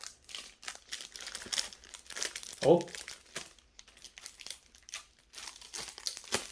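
Plastic packaging is snipped open with scissors and crinkled, producing faint scattered rustles and a sharper crackling burst in the middle, heard beneath intermittent quiet talking.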